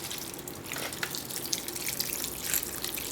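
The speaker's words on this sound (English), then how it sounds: "we're just going to pour that all over" Mushroom gravy mixed with water poured from a container over Salisbury steak, a steady liquid splashing and trickling sound throughout, close and fairly quiet, with no talking.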